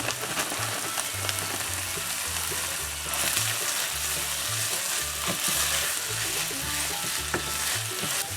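Sloppy joe sauce sizzling and frying in a pan while being stirred, a steady close crackle with scraping stir strokes throughout.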